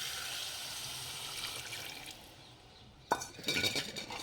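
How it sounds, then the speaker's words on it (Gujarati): Water poured into a cooking pot of drumstick and potato curry, a steady close rushing pour that tapers off, then splashing and clinks of the pot being stirred or handled. "ચલો તેમાં પાણી ઉમેરી દઈએ"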